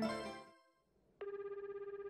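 A phone rings during a call in the video game Tokimeki Memorial Girl's Side 4: a brief musical tone fades into a short pause, then a steady electronic ringtone pulses rapidly and evenly.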